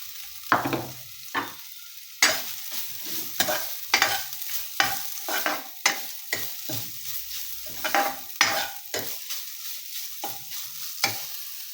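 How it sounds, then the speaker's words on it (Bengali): Grated coconut frying in hot oil in a pan for lachha semai, with repeated scraping stir strokes over a steady sizzle, close and fairly loud, no talk. "তেলটা গরম হয়ে গেছে এখন আমি এতে নারকেল কুড়াগুলো দিয়ে দেবো"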